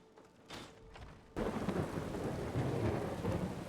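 Quiet rain patters before a sudden loud thunderclap hits, followed by a heavy, steady downpour with rolling thunder, in the video game Skyrim.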